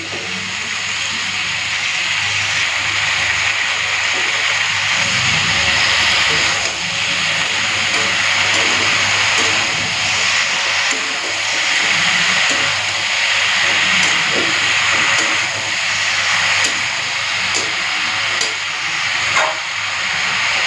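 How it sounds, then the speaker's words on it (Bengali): Chopped spinach hits a hot pan with turmeric, giving a loud, steady hissing sizzle that holds for the whole stretch, with faint kitchen clatter and no talk. "দিয়ে দিচ্ছি কেটে রাখা শীষ পালং"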